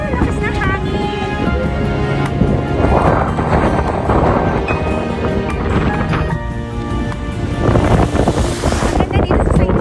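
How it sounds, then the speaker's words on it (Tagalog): Strong wind blows on a windy day in Tabuk City, a loud, continuous rushing roar buffeting the microphone in gusts, with people talking underneath. "Lakas ng hangin."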